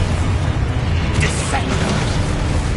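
Confringo and Exposo blasting spells go off in Hogwarts Legacy, a dense rumbling burst of magical explosions with booming low end and crackling debris, loud and continuous, with voices in the mix.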